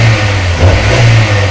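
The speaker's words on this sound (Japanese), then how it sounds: "ちょっと吹かしてみます。" Honda S2000 AP1 Type V engine fitted with an aftermarket muffler, revved at standstill: a loud, steady low drone that swells briefly as the throttle is blipped, heard close with no talking.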